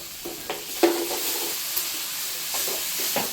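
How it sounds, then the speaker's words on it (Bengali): Spice masala stirred and fried in hot oil for a Bengali chicken and pulao dish, a steady soft sizzle with occasional scraping stirs of a spoon in the pan, no talking. "মশলাটা ভালোভাবে কষিয়ে নেব"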